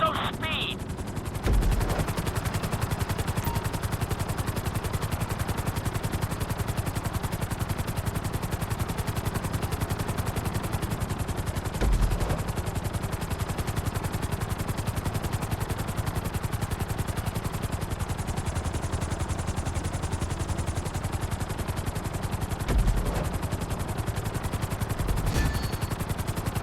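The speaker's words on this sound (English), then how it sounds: "Let's go on a short tour of the city, and we'll see how well you handle the chopper." A helicopter flies through the city in Grand Theft Auto V, a constant loud rotor and engine drone filling the whole stretch, with occasional brief sharp game sounds over it.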